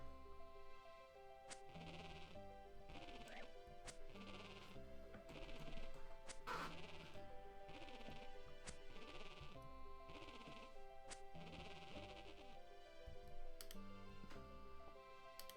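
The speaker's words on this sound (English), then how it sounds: "Sheep." Sheep bleating in the video game RuneScape, several separate bleats repeating at a steady pace over a continuous low tonal background, fairly quiet throughout with no talking.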